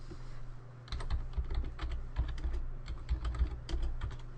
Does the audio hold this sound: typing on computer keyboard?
yes